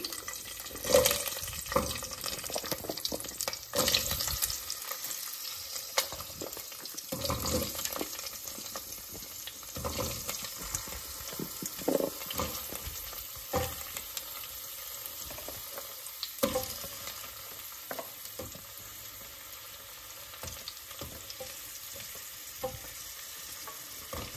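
Chopped vegetables for an Andhra-style sambar sizzle and fry in a hot pan while a spoon stirs and scrapes through them in steady, irregular strokes, close and fairly quiet, with no talking.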